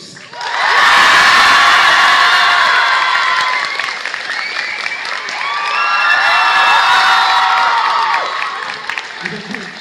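An audience at the Polymanga convention bursts into loud applause and cheering to welcome guests Sora and Dooms, a dense wash of clapping with whoops that swells, eases briefly and rises again.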